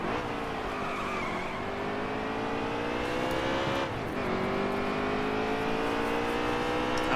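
A NASCAR race car in a video game career mode roars continuously at high revs, its engine pitch sliding up and down through a corner while tires squeal and skid, loud and up close throughout.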